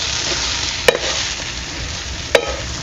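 Black masala spice paste sautéing in a pan, a steady close sizzle with two sharp clinks of a spoon against the pan.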